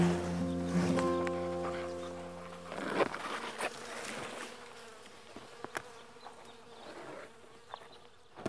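Bees buzzing around flowering purple basil in a small August garden, a loud close drone with shifting pitch at first, then fainter buzzing and light rustles.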